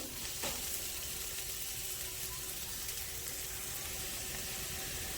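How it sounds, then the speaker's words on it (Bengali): Ginger-garlic spice paste being sautéed in a pan for a chicken stew, giving a steady, even frying sizzle with faint stirring scrapes and no talk. "এটাও আর একটু কষবো এই মশলাটা, আদা রসুনের কাঁচা গন্ধটা যাওয়া অবধি।"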